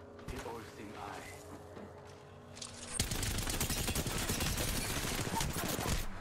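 Automatic gunfire in the video game Apex Legends: quieter mixed game sounds, then a sudden, sustained dense stream of rapid shots that stays loud and steady to the end.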